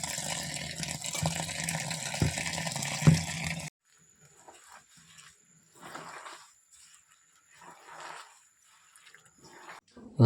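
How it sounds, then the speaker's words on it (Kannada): Water is poured over taro leaves to wash them: a steady rushing pour for several seconds, then near quiet with faint drips and soft handling noises. "ನೀರು ಹಾಕಿ ತೊಳಿಬೇಕು."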